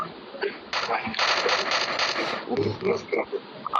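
Rapid bursts of gunfire in the shooter game Free Fire crackle through the middle of the stretch, with voices speaking around them.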